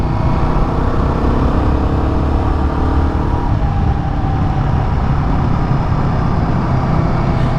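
A Royal Enfield Guerrilla 450 motorcycle engine pulls hard under throttle, a loud, continuous drone with heavy wind rush that shifts in pitch midway as it accelerates on an open road.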